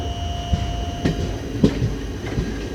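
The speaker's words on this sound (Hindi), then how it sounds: "यहाँ पे जो फ्रेट को हम ओवरटेक कर रहे हैं, क्या खूबसूरत लग रहा है बॉस।" A passenger Vistadome train runs through the Jharkhand countryside while overtaking a freight train, giving a steady rolling rumble with several sharp clacks and squeals spaced across the stretch, close and fairly loud, with no talk.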